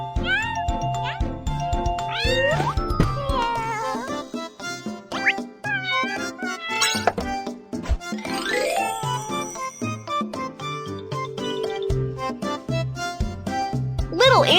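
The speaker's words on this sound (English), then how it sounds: "Yeah, the kitten has come out." A kitten meows repeatedly in high, rising calls over cheerful game music and chimes, the cries scattered through the first half and returning later.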